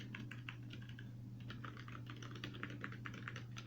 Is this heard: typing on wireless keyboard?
yes